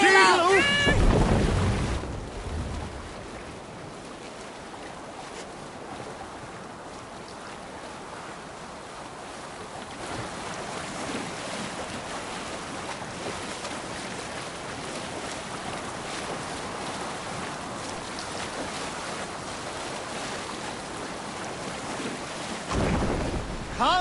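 A Viking longship sailing on the sea in Assassin's Creed Valhalla: a steady wash of waves and wind with creaking hull noise, a shouted voice at the start and more sound near the end.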